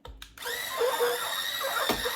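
An electric spin brush scrubber whirs steadily against a wet shower surface, a continuous high motor whine with a brief scrubbing surge near the end, heard close and without talk.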